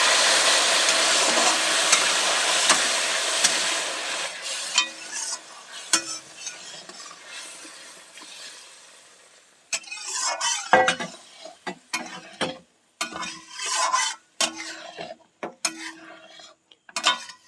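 Semolina halwa stirred in a pan as water is worked in, an early hissing sizzle fading away, followed by irregular clinks and scrapes of a spoon against the pan.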